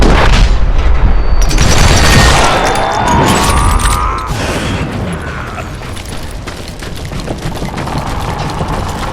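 Gunpowder barrels blow up in the Western shooter game Call of Juarez, giving a loud, dense burst of booming blasts and crackling debris that fades into a rumbling, noisy tail.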